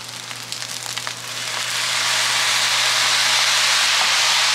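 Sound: soy sauce sizzling in frying rice with Chinese sausage

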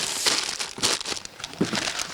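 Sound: packets of pasta being packed into aid box

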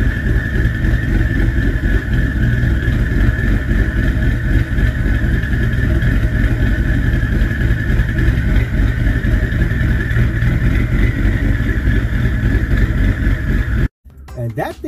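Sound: Ford Explorer exhaust with Ghost Cam tune revving

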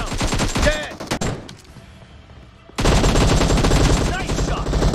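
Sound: gunfire in the video game PUBG

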